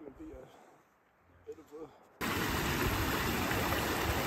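A mountain creek rushes loudly and steadily in the wilderness, its broad, constant roar arriving suddenly midway after a quieter stretch with a few brief spoken sounds.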